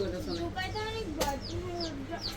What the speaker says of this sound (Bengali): আমার মুরগি বাচ্চাগুলো পাশে আছে চিচি করতেছে